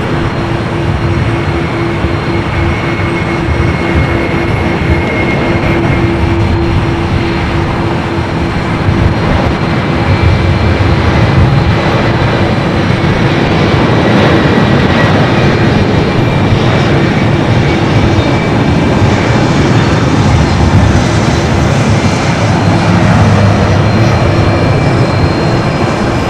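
An airliner bound for Shenzhen rolls down runway 25 Right at Los Angeles International Airport on its takeoff run, a loud, steady broadband jet roar with a sustained whine holding for the whole stretch and no talk.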